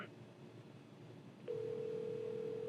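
A steady telephone dial tone comes in abruptly partway through and holds evenly to the end over quiet background hiss.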